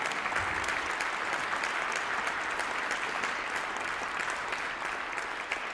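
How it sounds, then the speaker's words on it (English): A full round of steady audience applause at a jazz memorial event, dense and continuous from a sizable crowd throughout, with no talk over it. "We should give them a round of applause"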